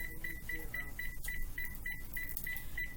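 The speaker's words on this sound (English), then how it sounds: "I'm going to set my timer for 30. So this will beep and let me know." A kitchen timer is set with a rapid series of short, high electronic beeps at a steady rhythm, close and clear over a low background hum.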